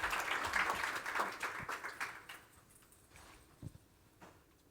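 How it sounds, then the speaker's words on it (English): Audience applause for a presenter at a usable security and privacy symposium session, a burst of clapping that starts loud and thins out over a few seconds, with scattered late claps. "Let's give a round of applause to Renascence."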